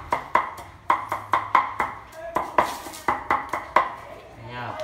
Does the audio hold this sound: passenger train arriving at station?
no